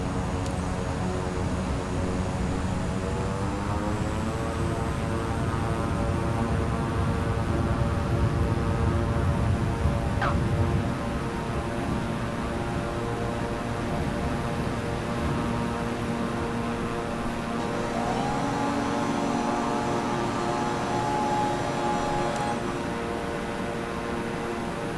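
Aircraft engine spooling up for takeoff in Microsoft Flight Simulator, a steady droning hum with rising tonal layers that build and shift over a long stretch, loud and continuous with no talk.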